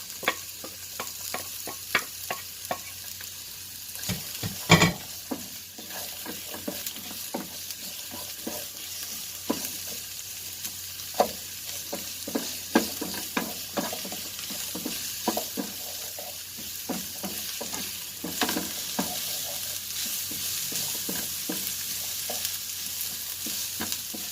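Onions sizzle and fry in olive oil for chicken biryani, with a steady hiss under frequent scraping stir strokes and clinks, close and moderately loud throughout, no talking.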